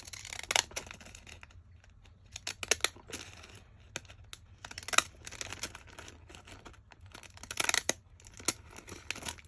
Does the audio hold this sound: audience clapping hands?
no